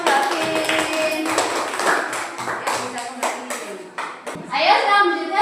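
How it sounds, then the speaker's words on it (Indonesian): Children in a classroom clap for a classmates' group after a presentation on butterfly metamorphosis, a ragged burst of close hand claps mixed with kids' chatter and voices throughout. "Tepuk tangan untuk kelompoknya Mas Habib."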